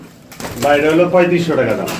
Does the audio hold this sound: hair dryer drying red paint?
no